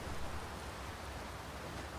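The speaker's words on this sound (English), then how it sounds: "Oh, the waterfall." A waterfall in the fantasy game Dragon's Dogma 2 gives off a faint, even rush of falling water, heard as steady, distant-sounding noise with no voices over it.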